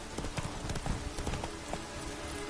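Horse hooves clip-clopping in a video game, a quick, uneven run of close hoofbeats at moderate volume, with no other sounds.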